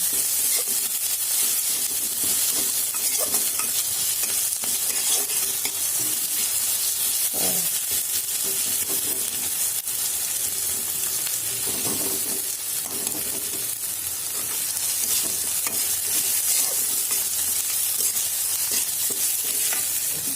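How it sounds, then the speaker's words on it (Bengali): Ginger and garlic sautéing in a pan, a loud continuous sizzle and hiss with occasional stirring scrapes, steady throughout with no talk. "এটা একটু কিছুক্ষণ কষিয়ে নেব।"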